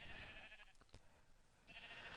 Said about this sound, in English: I've got a whole bunch of sheep